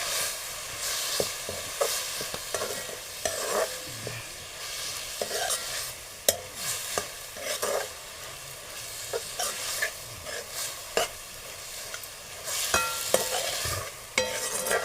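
A spatula stirs banana flower vegetable around a large kadhai, with scraping strokes repeating at irregular intervals over a soft, steady sizzle, close and moderately loud, without any talking.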